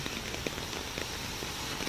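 Steady, continuous rain falling on surfaces outdoors on a morning after raining all night, a dense even hiss with scattered drop patters, close and unbroken.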